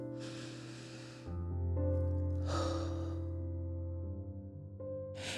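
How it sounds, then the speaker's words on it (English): A person takes one deep breath in and lets it out slowly, a long audible inhale and exhale, close and quiet, with a faint tonal background underneath. "We're going to first take a deep breath in and out."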